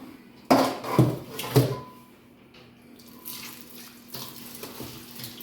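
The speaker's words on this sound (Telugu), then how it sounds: "చూసారు కదా ఎలా వాష్ చేస్తున్నాను?" Fish being washed by hand in a bowl under running water, with three loud splashy sloshes at the start followed by softer trickling and occasional knocks against the bowl.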